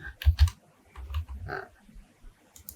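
Computer keyboard typing, a few quick close clicks and key presses in short bursts with pauses between them, otherwise quiet.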